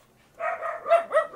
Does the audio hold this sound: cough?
no